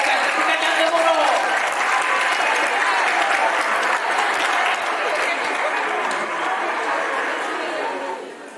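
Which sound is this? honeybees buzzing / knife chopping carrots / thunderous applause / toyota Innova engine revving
thunderous applause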